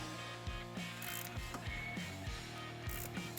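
HD primary clutch being tightened on a Polaris RZR 800, heard as a close, steady ratchet clicking in a quick repeating rhythm with metallic pawl ticks throughout.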